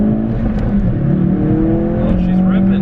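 A stage 2 tuned Ford Focus RS pulls hard in first gear, its engine note rising steadily and loud from inside the cabin, with a person talking over it.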